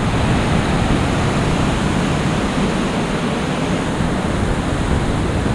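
Evolution Creek, a fast mountain creek swollen with spring runoff in the High Sierra, roars as steady, broadband rushing water, loud and close with no pauses.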